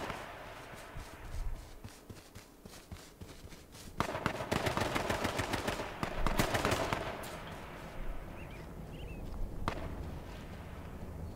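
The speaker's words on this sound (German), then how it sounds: "Ja, aus dem Wald noch Schüsse." Gunfire from the woods in the video game H1Z1: a quiet stretch, then from about four seconds a dense, continuous run of sharp shots and bursts that carries on at moderate loudness through the rest.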